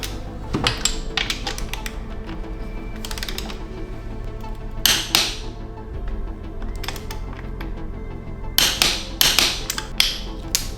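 Wrench ratcheting and metal clicks while tightening the swing arm linkage bolt on a Beta XTrainer dirt bike, in several short bursts of clattering taps separated by pauses, close up.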